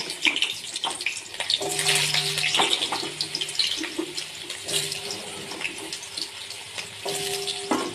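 Potatoes dropped into hot oil in a kadai, cooking Bengali kadaishutir dhoka, sizzle and fry with a steady loud hiss and crackle, and a few faint clinks alongside.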